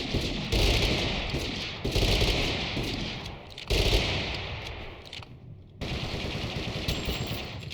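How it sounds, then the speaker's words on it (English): Rapid revolver fire in the video game TABG, a dense nonstop burst of loud shots broken into three or four long volleys with brief gaps, close and harsh with no talking. "Wow, that's a very fast fire rate for a revolver."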